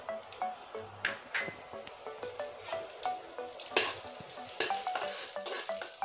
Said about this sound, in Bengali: এখন এই ফোড়নটা দিয়ে দিচ্ছি।